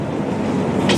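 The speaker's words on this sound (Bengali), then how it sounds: "এই যে খেলনা ট্রেন" A toy train running at an old zamindar house, a loud continuous rumbling rattle for about a second with a brief higher whir near the end.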